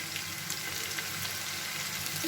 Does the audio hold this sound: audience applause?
no